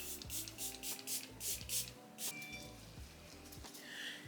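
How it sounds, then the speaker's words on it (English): Revolution Super Fix misting setting spray is spritzed in a rapid series of short, close hissing bursts, about eight in quick succession, with faint rustling between them. "So I'm just gonna spray that, cover my hair."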